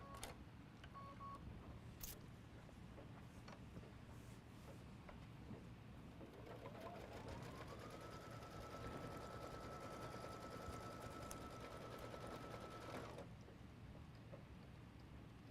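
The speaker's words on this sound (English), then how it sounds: "run your next machine step, which will be the folding stitch" A sewing machine runs a folding stitch along a fabric border block, its steady mechanical whir going on for several seconds at close range, with no talking.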